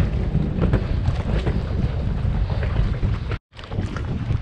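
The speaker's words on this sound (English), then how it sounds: "we're out at the end of a marina, and yeah, it's really windy" Strong wind blows across the end of a saltwater marina, buffeting the microphone with a loud, continuous low rumble and hiss, broken by a brief dropout near the end.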